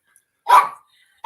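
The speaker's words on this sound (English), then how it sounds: "he's barking at me" Indoor dog barking: one loud, close bark followed by the start of a second, with silence between them.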